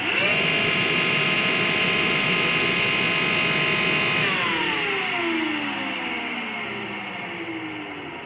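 An AEG Lavatherm 56800 tumble dryer motor whines steadily at speed, then powers down, its pitch sliding lower and fading as the drum coasts to a stop, close and alone.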